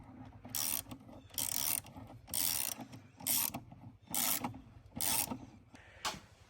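A ratchet wrench tightens a part during upgrade work on a Ram 1500 EcoDiesel truck, clicking in about eight short bursts with brief pauses between strokes, close and fairly quiet.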